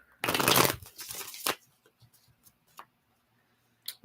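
A deck of tarot cards is riffled in a loud, close burst, followed by a few softer taps and slides as the cards are squared, with quiet pauses between.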